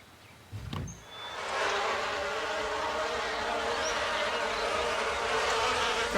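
Cartoon bees buzzing in a dense, steady drone that swells in after a brief thump and holds loud and close to the end.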